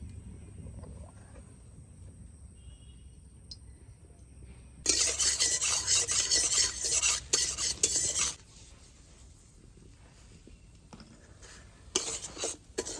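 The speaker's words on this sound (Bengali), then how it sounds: "এখন আমি সুজিগুলোকে বেজে নেবো" Semolina is stirred and roasted in ghee in a wok. A quiet stretch gives way to about three seconds of loud, gritty scraping, then a lull and a shorter burst of scraping at the end.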